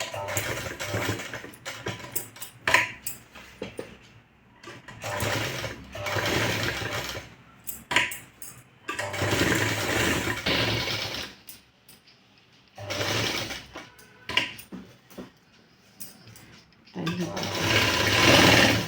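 A sewing machine stitches along the neckline edge of a blouse in repeated short bursts with brief stops between runs, close and clear, while someone talks over it.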